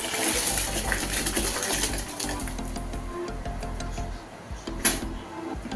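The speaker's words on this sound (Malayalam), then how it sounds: "നമ്മുടെ വെള്ളം തിളച്ച് നമുക്ക് ചോറിട്ട് കൊടുക്കാം." Rice tipped into a pot of boiling water for Kerala-style chicken biryani, a steady close rushing, gushing water sound with bubbling throughout and a brief splashy surge near the end.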